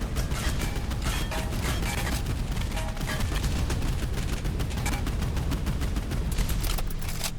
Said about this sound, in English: 37mm cannon.